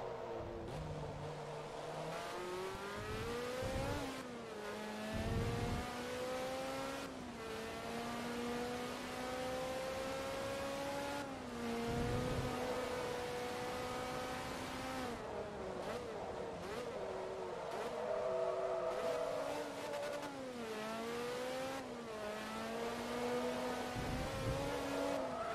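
Race car engines in Forza Motorsport 2 on a final lap behind a Ferrari, steady high-revving drone with repeated upshift dips and rises, loud and continuous throughout.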